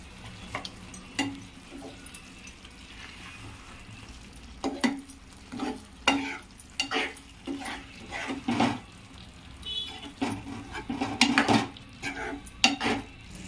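Egg cake cups being stirred into a simmering curry in a pan, with repeated scraping spoon strokes and metal clinks against the pot over a soft bubbling background, irregular and close, no talk.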